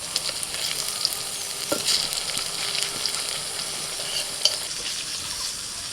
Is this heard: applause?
no